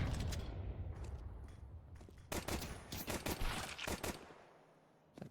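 Counter-Strike match gunfire, a Famas rifle tapped in short bursts at range, sharp cracks in quick clusters over busy background game noise, fairly faint overall.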